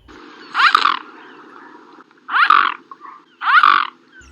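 Three loud, harsh snorting calls from a mute swan, close by, separated by pauses, with a low hum in the background.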